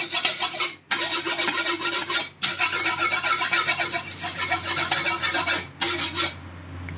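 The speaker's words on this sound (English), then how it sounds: "Just sharpen the knife first." A knife is sharpened in a kitchen, giving loud, close rasping strokes in long continuous runs, broken by a few short pauses.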